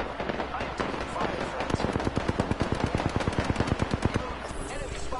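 Rapid automatic gunfire crackles in Apex Legends, a long run of sharp evenly spaced shots, close and loud, with brief scattered bursts before it.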